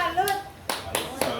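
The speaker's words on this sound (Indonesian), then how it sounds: "Tepuk salut." Audience clapping in salute at a school presentation: a few sharp, separate claps, near and fairly loud, with a voice briefly heard.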